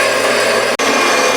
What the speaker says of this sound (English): That's a 4x6 bandsaw, and that's a 3x5 piece of square tubing.